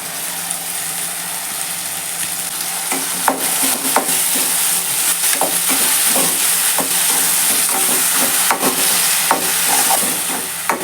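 Tomatoes sizzle in a hot pan for cauliflower masala dosa filling, a steady loud hiss with scattered stirring scrapes and clinks throughout, no talk.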